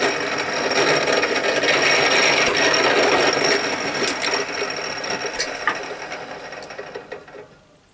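A hand drill boring a hole in wood, a steady close grinding rasp of the bit cutting into the timber that runs continuously and slowly fades away toward the end.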